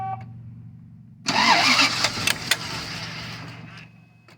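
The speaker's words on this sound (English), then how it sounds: "when I run the pump, it is pressurizing the system" The fuel pump of a 1998 Bentley Brooklands R, with its Schrader valve removed, switches on after a low idle-like hum, bringing a loud, close whirring hiss that holds steady for a few seconds before easing off.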